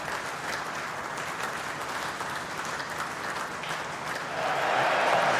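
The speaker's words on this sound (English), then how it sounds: "You are hearing the roar of this big crowd here on the 5th day at Lord's." A big cricket crowd at Lord's on the fifth day of an England v Australia Test, a broad sustained roar and applause that swells louder toward the end, with no voices over it.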